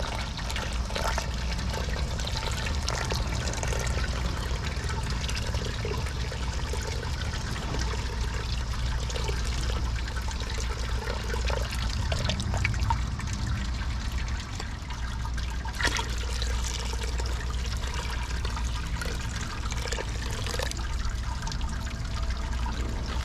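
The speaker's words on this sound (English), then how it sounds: "Now we're going to start to rinse her off. Sparge our grains here." Sparge water trickles and pours steadily over mash grains in a homebrew Irish stout setup, a continuous close liquid splashing and dribbling throughout.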